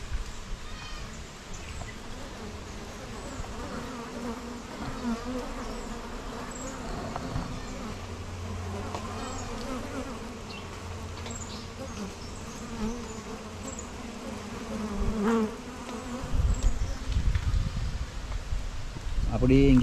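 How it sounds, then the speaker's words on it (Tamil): Bees buzz all around, a persistent droning hum with individual insects passing near, rising louder toward the end. "இப்போ தேனீக்கள் வந்து போயிடுறது"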